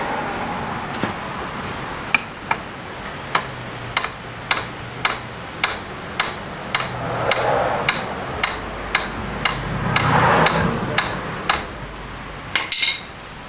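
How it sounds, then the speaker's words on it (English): Regular light metallic taps from a hammer striking a brake bleeder on a Yamaha R6, about one per half second, sharp and close, with faint background rumble. "I'm just going to lightly tap on it with a hammer."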